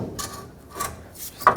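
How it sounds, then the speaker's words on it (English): A truck torsion bar sliding into the lower control arm of a Chevrolet Colorado, short scraping metal-on-metal rubs in three bursts with a sharper knock at the end, close and fairly loud. "Take the torsion bar, make sure the key on the backside stays on it and doesn't fall off. Slide it in the control arm."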